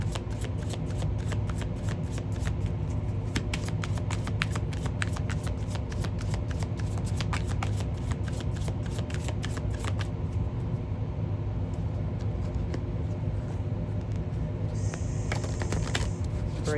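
A deck of cards is shuffled for a card reading, with close, repeated riffling and soft slapping bursts in a steady run and no talk.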